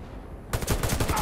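Automatic gunfire in Warface on Nintendo Switch, a rapid burst of loud, close shots that starts abruptly after a moment of quiet ambience.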